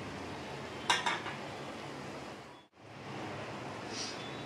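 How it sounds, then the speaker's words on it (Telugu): A knife slices boiled eggs into thin pieces on a kitchen surface, giving a short cluster of close clinks and taps near the start, then a quiet stretch with a brief dropout and faint background hum. "ముందుగా ఉడికించి పెట్టుకున్న గుడ్లను అయితే సన్నగా ముక్కలుగా కట్ చేసుకోవాలండి"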